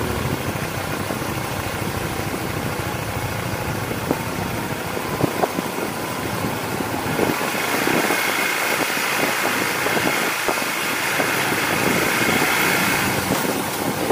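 A motorcycle engine drones steadily while riding on an empty road near Sajek Valley, with engine-braking rumble and wind noise, continuous and close throughout, no talk.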